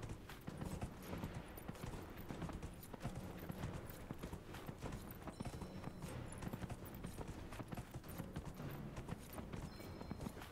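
Horse hooves gallop in a steady, rapid clip-clop during a race in the video game Dragon Age: Inquisition, continuous and fairly quiet with game music underneath.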